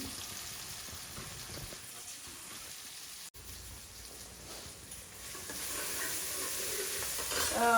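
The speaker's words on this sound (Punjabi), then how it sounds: "ਇਧਰ ਆਪਣਾ ਤੜਕਾ ਹੋ ਰਿਹਾ ਰੈਡੀ ਤੇ ਇਧਰ ਮਟਰ ਬੋਇਲ ਹੋ ਰਹੇ ਨੇ" Tempering spices sizzle in a pan beside a pot of boiling peas, a soft continuous hiss and crackle that swells louder toward the end, close by with no talking.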